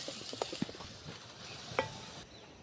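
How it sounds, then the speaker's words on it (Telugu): Onions and green chillies sizzle in a pan for a village-style potato curry, with a soft steady frying hiss and a few light scrapes and clinks of a spoon stirring, quiet and close. "బంగాళదుంప కూరలో స్టార్టింగ్ ఉల్లిపాయలు పచ్చిమిరపకాయలు వేస్తున్నాం అనమాట."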